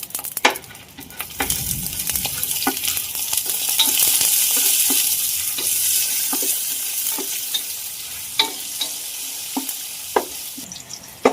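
Cashews and raisins roast in a hot pan with a steady broadband sizzle, while sharp scraping stirs of a spatula tap the metal every second or so. No voices are heard.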